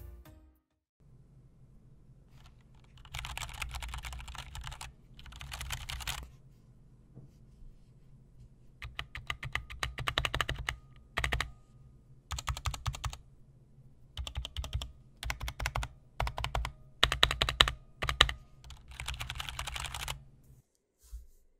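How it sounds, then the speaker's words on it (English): Typing on a GMMK 60% keyboard with stock Gateron Brown switches and double-shot ABS keycaps, heard as close bursts of keystrokes in uneven flurries separated by short pauses. "So the stock Gateron Browns are serviceable, but they can sound much better."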